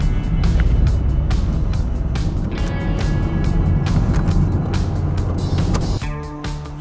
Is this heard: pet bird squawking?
no